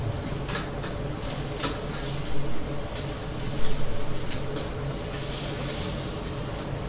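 A Cuban roast beef sandwich sizzling and browning in a hot pan under a brick, with a steady hiss and occasional scraping and clinks as it is flipped.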